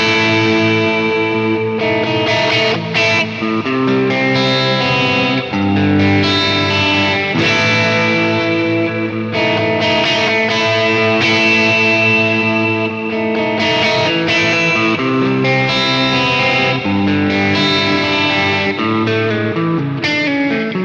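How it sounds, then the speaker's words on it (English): Guitar played through a Klowra Limbo reverb pedal in its Hazy mode, a continuous loud passage of strummed chords and notes swimming in a dense, misty, modulated reverb wash with no talking. "Hazy is a more abstract, misty sound."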